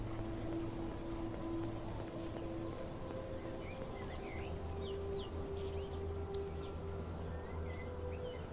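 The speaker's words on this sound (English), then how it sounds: "I think the rain's stopping now." Light rain falls in HumanitZ, a soft, steady hiss heard faintly at a distance, with a low engine-like hum underneath and occasional bird chirps.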